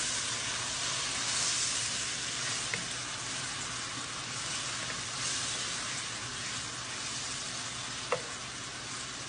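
Vodka sauce simmering in a pan over lowered heat: a steady, close sizzle and hiss of cooking liquid, with a couple of faint clinks, no talking.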